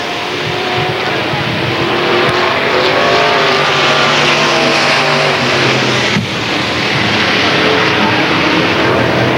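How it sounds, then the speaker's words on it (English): Limited late model race cars roar around the Lernerville Speedway dirt oval in a steady, loud, continuous engine drone with shifting pitch as cars pass, an announcer's voice faintly underneath. "Rick Armstrong finishes fifth in car 29"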